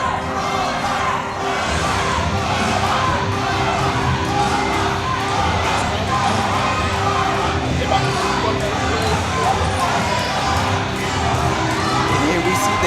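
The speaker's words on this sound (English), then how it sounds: "The crowd is going insane right now." A wrestling arena crowd roars and cheers continuously for a wrestler's entrance, with dense shouting and screaming voices sustained at high volume throughout.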